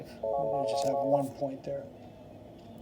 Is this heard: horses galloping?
no